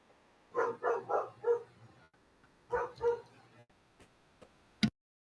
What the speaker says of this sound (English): Sorry about my doggy barking in the background.